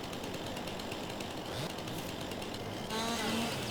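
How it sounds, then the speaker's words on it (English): A chainsaw cuts trees in Farming Simulator 22, giving off a continuous buzzing engine drone that holds steady and then swells slightly louder toward the end, with no one speaking. "Let me get this chainsaw."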